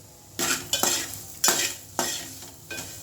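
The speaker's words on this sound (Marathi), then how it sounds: "हलवून घेऊ आपण आता" A spatula stirs crispy tondli (ivy gourd) stir-fry in a pan, giving four or five distinct scraping sweeps over a low sizzle, close and fairly loud with no talk.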